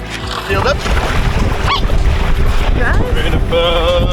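A small boat moves across open water off an island in wind, with rushing wind buffeting the microphone and churning water sounds, loud and close, while people talk and call out over it.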